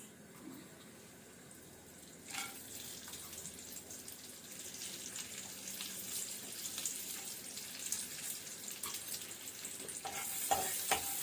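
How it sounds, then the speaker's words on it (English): Peanuts roasting in a small amount of oil in a pan while making a semolina upma breakfast, a quiet steady sizzle with occasional light clinks and scrapes. "And then we will roast our peanuts."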